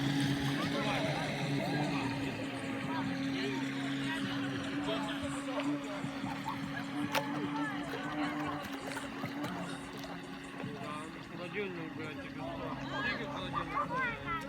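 A Falcon 3542 carp bait boat with an upgraded motor system runs at full speed on water under manual control, a steady droning motor whine with water churn, while someone talks over it throughout.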